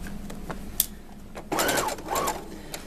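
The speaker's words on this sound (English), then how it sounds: "I'm going to back stitch, make sure I'm all the way back to the beginning." A sewing machine back stitches a ruffle onto doll pants, running in two short close bursts whose motor pitch rises and falls. Faint handling clicks come between the bursts.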